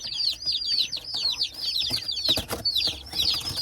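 Laying hens, newly arrived on a homestead, cluck and squawk in a busy chorus of repeated calls close by, with a brief rustle or flutter of wings midway.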